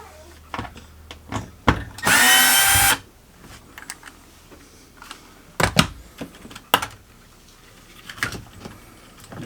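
A cordless driver fitted with a T15 Torx bit backs screws out of a Whirlpool dishwasher, with one sustained whir of about a second among scattered sharp clicks and clatters of handled parts and tools.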